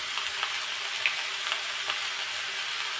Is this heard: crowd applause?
no